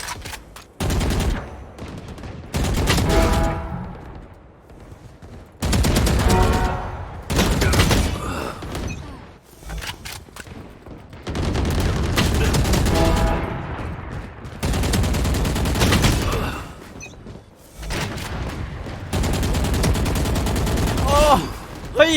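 Rapid bursts of automatic gunfire from the video game Valorant come in repeated volleys separated by short pauses, loud and close, with the player's voice occasionally heard between them.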